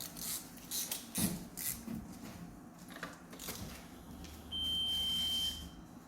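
An Audi A3 1.8 turbo parking sensor gives one steady, sustained beep tone that lasts about a second near the end. Faint rubbing and handling noises come before it, and nobody speaks.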